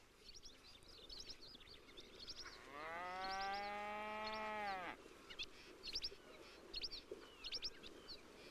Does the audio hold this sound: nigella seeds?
no